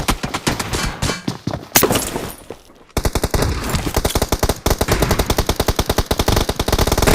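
Gunfire in PUBG Mobile, with scattered shots and bursts that give way to a long, rapid automatic volley of closely spaced, loud reports.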